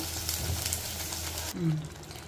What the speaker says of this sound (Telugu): ఇదిగోండి మసాలా మట్టికి పచ్చివాసన లేకుండా చాలా బాగా వేగాలండి.